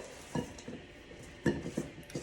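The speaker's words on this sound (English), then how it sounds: "And I just stir that in there." A spoon stirs coarsely chopped ingredients into orange cake batter in a bowl, giving a few soft scraping knocks against the side, close and quiet.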